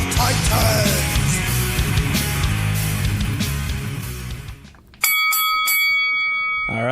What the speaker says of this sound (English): the bell rings, and we are off.